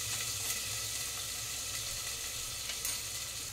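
Ginger and cumin paste sizzles and spatters in hot oil, a steady dense frying hiss with small crackling pops throughout, close and fairly quiet.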